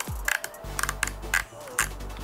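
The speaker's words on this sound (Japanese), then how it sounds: "こちらのダイヤルですね、真鍮使われていてですね結構ね重厚感ありますね。 でクリック音もめちゃめちゃいいです。" Several crisp, close mechanical clicks come from turning the brass control dial on a Nikon Zf camera, spaced irregularly over a quiet low hum.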